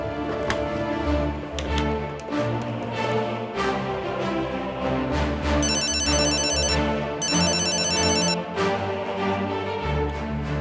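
A telephone ringtone rings for an incoming call in a Kannada murder drama, a loud repeating melodic tone that plays over background music for about ten seconds.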